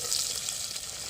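Onions frying in a few spoons of oil over an outdoor campfire on a mountaintop, sizzling steadily and brightly for a brief stretch with no talking.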